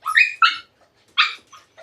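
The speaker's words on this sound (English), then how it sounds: "My dog, she gets excited when she sees new people coming in." A dog barks excitedly at new people arriving: two quick, sharp yipping barks, then a pause, then another loud bark, followed by softer trailing yips, close and clear with no talk.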